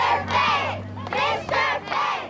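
Crowd of children cheering and shouting loudly for their elementary school teacher at a street event, rising in three bursts with a low hum underneath.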